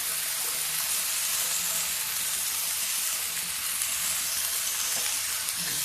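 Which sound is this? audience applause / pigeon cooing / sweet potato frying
sweet potato frying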